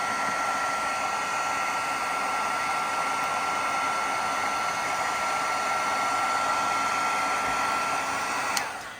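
Heat tool blowing steadily to dry distress oxide ink on cardstock, a loud continuous whir that holds unchanged for the whole stretch and ends with a faint click.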